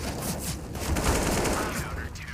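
Sustained bursts of gunfire fill a professional Counter-Strike match on the Vertigo map. The crackle is dense and overlapping, with a caster talking over it throughout.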